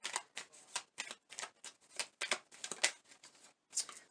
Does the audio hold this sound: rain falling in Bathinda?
no